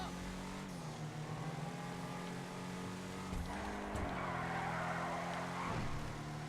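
Schyster Deviant car in a video game, its engine droning and shifting pitch as it drives, with tires skidding and squealing in a rough hiss midway, under steady talk.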